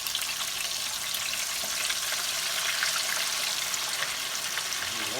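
Flour-coated chicken pieces fry in hot grease, making a loud, dense, continuous crackling sizzle that stays even and close throughout with no voices.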